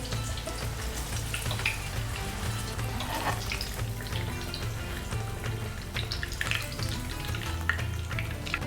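Potatoes frying in a pan for chicken and vegetable maqloubeh, a steady close sizzle with occasional pops and crackles, some clatter of turning, and no talking.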